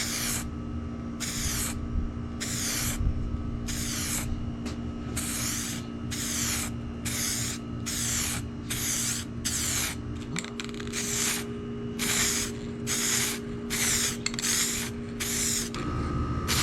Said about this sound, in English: so I sprayed the first coat